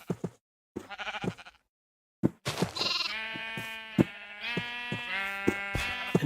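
Minecraft sheep bleat in quick succession, wavering nasal baa calls that come close and loud, overlapping one another after a few short broken sounds at the start.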